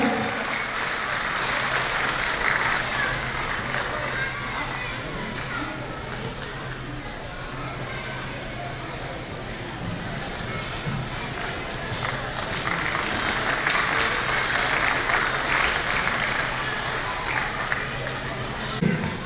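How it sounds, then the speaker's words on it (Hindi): A large crowd applauds at a Meena community gathering and biennial convention, a broad, continuous roar of clapping that swells and eases over about twenty seconds, with voices and a public-address tone underneath. "तालियां आपके ऊपर फिर जोरदार"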